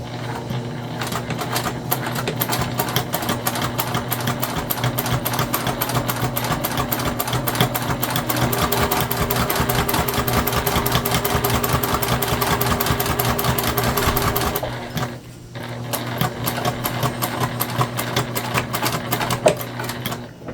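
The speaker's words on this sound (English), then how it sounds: "gonna pop this under and sew this together at a top stitch length" A sewing machine top-stitches the closed edge of a slippery fabric wet bag at about 1/8 inch, running in a loud, steady rapid rattle for about fifteen seconds, then briefly pausing before stitching on.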